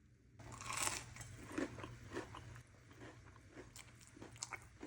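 Crunchy bites into crispy fried chicken tenders made from boneless, skinless chicken thigh strips, several close crackling crunches and chewing over a low steady hum, no talk.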